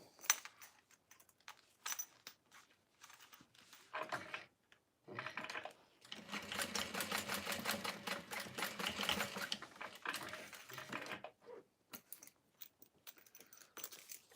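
Sewing machine top stitching about 1/8 inch from the edge of a Freesia fold-over bag, starting in short stop-start bursts and then running steadily for several seconds before slowing again, close and fairly loud.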